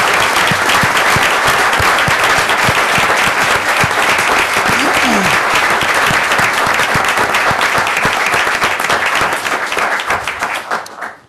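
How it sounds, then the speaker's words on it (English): An audience at a city council meeting applauds police officers with loud, sustained clapping that fills the room for about ten seconds before tapering off. "if we could applaud them for doing what they're doing"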